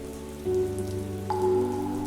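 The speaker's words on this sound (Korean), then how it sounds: "아무런 의미도 담지 않은 채 무질서하게 땅을 두들기던 빗소리에서 묘한 선율이 느껴진다." Steady rain patters on the ground, a dense even hiss of drops with a low hum underneath, no voices.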